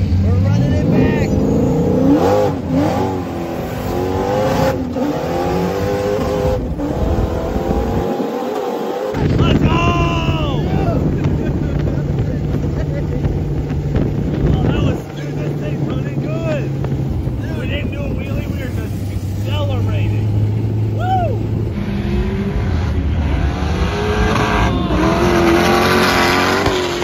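A rowdy billet-built sand car engine revs hard and drives off, loud aggressive roaring with rising and falling pitch sweeps and gear changes, a brief cutout midway, with excited voices shouting over it.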